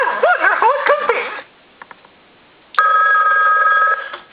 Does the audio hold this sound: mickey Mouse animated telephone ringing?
yes